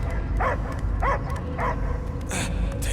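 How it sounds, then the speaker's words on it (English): Dog barking in the Guardians of the Galaxy video game: three or four clear barks and yips, evenly spaced and close, over a steady game background with speech nearby. "I hear only barking."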